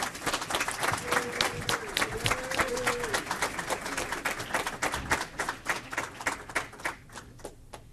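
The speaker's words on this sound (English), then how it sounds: "Can we please give them both a round of applause?" Ceremony audience at a sister city signing breaks into steady applause, many hands clapping densely at first, then thinning into scattered individual claps that fade toward the end.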